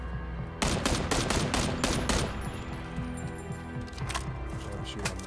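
Rapid gunfire bursts from PlayerUnknown's Battlegrounds, a dense run of shots for about two seconds, then scattered single cracks and another short burst, loud and close.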